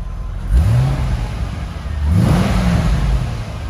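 A 2004 Corvette coupe's engine runs close by and revs twice, each blip rising and falling over a steady idling rumble with no talk.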